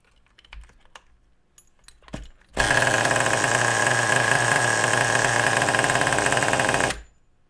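A nitro RC car engine with a slightly rich mixture roars into a loud, steady high-pitched buzz for about four seconds after a few faint clicks, then cuts out abruptly.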